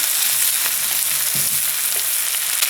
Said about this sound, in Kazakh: Сосын мына қыстың күнімен салып жасаған, қызанақтан жасаған томаттың суын қосып жіберемін. Енді біраз қуырылу керек.